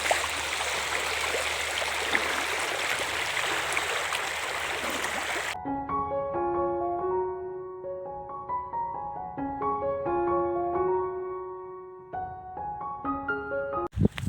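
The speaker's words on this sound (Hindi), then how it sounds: "लेकिन पहले ये पानी पार करता हूँ।" Cold mountain stream near Dehradun, rushing and gurgling loudly and steadily close by, then cut off midway as a plucked melodic instrumental tune takes over for the rest.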